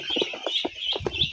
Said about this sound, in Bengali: হাঁসের বাচ্চা জোড়া